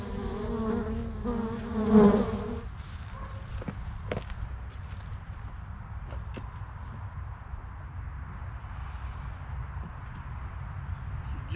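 Honeybees buzzing around an open hive during an inspection, a steady low drone with a brief louder buzz near the start and faint handling clicks.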